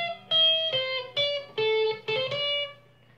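An intro riff on electric guitar through distortion: six punchy, sustained notes in a quick, stepping run, played alone and close up.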